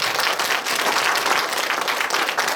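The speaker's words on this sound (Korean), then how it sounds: "전통문화유산 발전을 위해 헌신하고 계신 우리 강사님 모두 큰 박수로 모셨으면" An audience at a humanities lecture bursts into sustained, dense applause to welcome a lecturer, steady and fairly close for the whole stretch.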